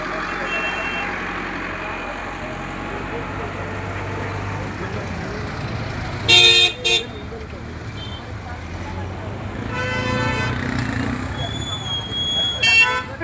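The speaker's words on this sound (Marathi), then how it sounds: "या ठिकाणी अशी वाहनेही जात असतात" Vehicles pass along a road at a busy weekly market under a constant traffic rumble. Several short, loud horn toots break through, some as quick double honks.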